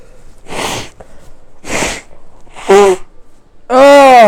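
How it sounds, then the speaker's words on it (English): Several sneezes in a row from one person, close and loud, each burst separated by a short pause, with the later ones longer and more voiced. "I was recording to see how many fucking times I would sneeze in a row."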